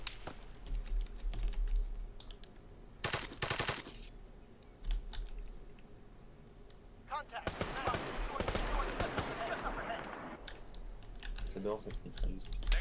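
Machine gun fire in the Arma 3 military shooter, with dense rattling bursts in a couple of separate volleys and occasional single shots, heard over keyboard typing and quiet background noise.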